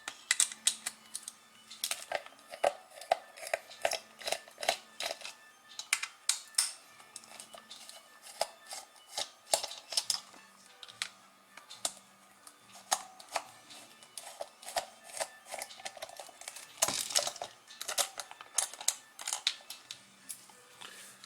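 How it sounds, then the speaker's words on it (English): Small Phillips head screws being backed out with a small screwdriver during disassembly of an Omron sensor, heard as close, repeated light clicks and ticks of the driver tip turning in the screws, with no talk. "So we're going to take those screws out. They're Phillips head."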